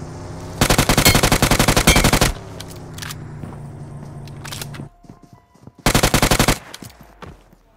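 Bursts of automatic gunfire in the BGMI video game: a long rapid burst, a few scattered single shots, then a second short burst, loud and close.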